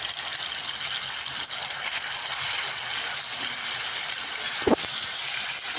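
Finely chopped tomato and onion fry in hot oil in a pan for an egg curry, with a loud, steady sizzling hiss throughout and one brief knock near the end.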